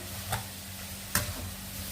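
Vermicelli being stirred into vegetables frying in a pan, a soft continuous sizzle broken by two brief scraping strokes of a spoon.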